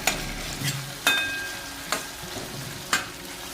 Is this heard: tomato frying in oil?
yes